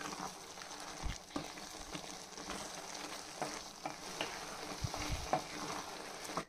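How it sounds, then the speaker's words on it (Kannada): Ground masala is stirred and cooked with milky mushrooms in a pan for sambar, a steady close sizzle with repeated soft scraping stirs throughout and no talking. "ಮಸಾಲೆನ ಚೆನ್ನಾಗಿ ಮಿಕ್ಸ್ ಮಾಡ್ತಾ ಮಶ್ರೂಮ್ ಜೊತೆ ಇದನ್ನು ಬೇಯಕ್ಕೆ ಬಿಡೋಣ"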